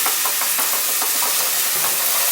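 Garlic sizzling in oil in a pan, a steady, loud, hissing fry with faint crackling pops scattered throughout, heard alone without voices.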